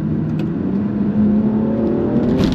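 A BMW M235i pulling hard in sport mode, its engine note climbing steadily in a loud, close, sustained rev with a rising tonal whine and no talk over it.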